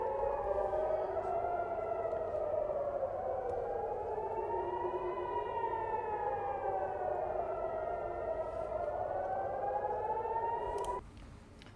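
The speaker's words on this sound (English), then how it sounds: "So you can hear sirens in this video, and there was explosions reported." Air raid sirens wail over Tel Aviv at night, slowly rising and falling in long, loud sweeps with no talking, then cutting off abruptly near the end.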